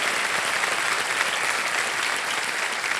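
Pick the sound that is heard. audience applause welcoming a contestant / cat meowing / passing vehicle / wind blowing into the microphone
audience applause welcoming a contestant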